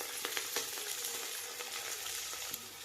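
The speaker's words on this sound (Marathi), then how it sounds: "तेल गरम झालंय, आता मी जिरे ऍड करत आहे, लसूण, अद्रक, कढीपत्ता, मिरची मिक्स करणार आहे।" Onion, cumin, garlic, ginger, curry leaves and chilli fry in hot oil for dal khichdi, giving a dense, continuous sizzle with small crackles throughout and no voices.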